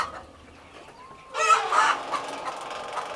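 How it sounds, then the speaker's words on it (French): Broiler chickens on a farm break from near quiet into a sudden burst of loud, close clucking, with several overlapping calls that continue to the end. "Voilà, ici c'est les poulets de chair."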